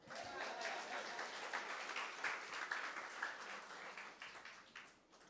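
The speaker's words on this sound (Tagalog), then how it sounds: "Konti lang pumalakpak." A few people clap in a church, giving a faint, scattered patter of hand claps that goes on for several seconds and then thins out, heard from a distance in a large room.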